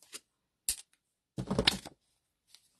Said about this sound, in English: I'm going to trim this one side off.